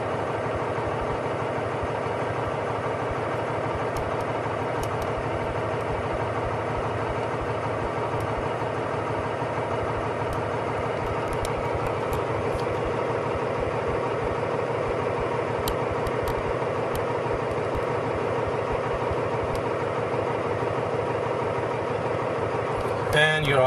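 A car engine idles at roughly 600 to 900 RPM, giving a steady, even hum that stays constant for over twenty seconds with no revving.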